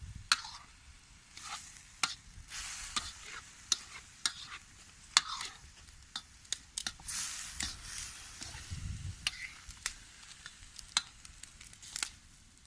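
Lardons sizzling and frying in a pan over an outdoor campfire, a soft continuous crackle dotted with sharp pops and utensil clicks, fairly faint throughout.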